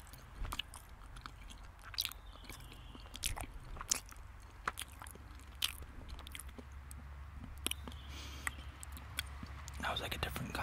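Close, soft chewing of Swedish licorice candy, with small wet bites and crunches repeating irregularly over a low background rumble.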